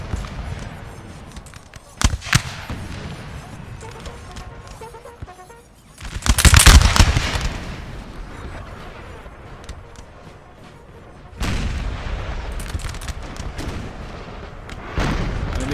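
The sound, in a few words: infantry musket volleys in Napoleon Total War video game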